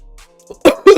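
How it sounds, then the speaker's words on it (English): A person coughs twice in quick succession, close and fairly loud, after a faint throat sound during an online blitz chess session. "Excuse me for the coughing."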